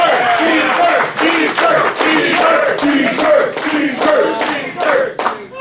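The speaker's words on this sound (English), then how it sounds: "Round of applause to Cheese Curd." A festival crowd at a pony-themed cider fest claps and cheers loudly, with whoops and shouting voices riding over dense, continuous applause close by.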